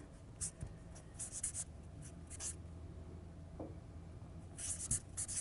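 Marker or chalk scratches across a classroom board during a language lesson, coming in short, faint, irregular bursts of strokes separated by quiet pauses, with no talking.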